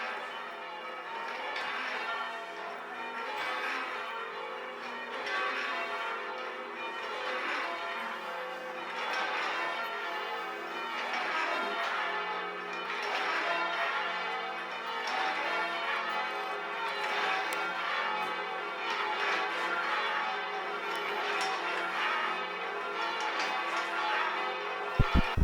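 Church bells peal continuously for the whole stretch, a dense, steady wash of overlapping ringing tones at a moderate, fairly distant level.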